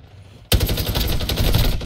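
Rapid automatic fire from a Renetti gun in a small-map shooter video game, bursting in suddenly and continuing as a loud, dense stream of shots.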